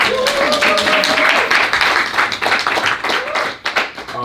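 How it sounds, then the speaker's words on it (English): An audience at an author event bursts into loud, close clapping with a brief vocal cheer at the start, then the applause thins into scattered claps. "So everybody give a round of applause to Andrea Ritchie, please."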